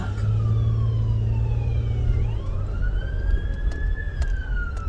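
Ambulance siren approaching on a steep hill, its wailing tone sweeping up and down and growing closer over the low hum of a car, clear and steady with no talking.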